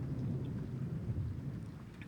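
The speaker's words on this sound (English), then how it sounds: "It's still raining, though." Steady rain falls with a deep rumbling wash in the horror game Corpse Party, a continuous dense hiss and low roar throughout, with no voices.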